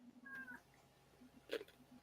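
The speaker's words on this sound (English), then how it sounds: "All I can hear is cats. Meow." A cat meows faintly a couple of times, a short call near the start and a sharper one toward the end, over a quiet low hum with no talk.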